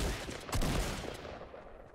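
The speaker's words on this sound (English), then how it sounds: "That's me shooting." Gunfire from a player's weapon in a Fortnite Battle Royale match, a short burst of shots with a louder blast near the middle, fading quickly afterward.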